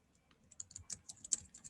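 Close, quiet typing on a computer keyboard: a short run of light, irregular key clicks with no speech over it.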